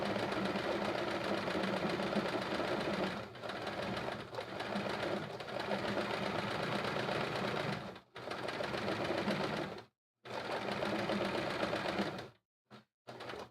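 A sewing machine runs almost without pause during free-motion quilting of blocks, its needle hammering in a fast, steady drone, close and loud, with a few brief stops near the end.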